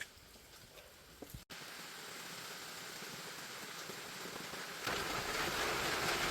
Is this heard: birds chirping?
no